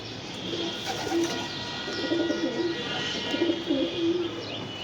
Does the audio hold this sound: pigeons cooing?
yes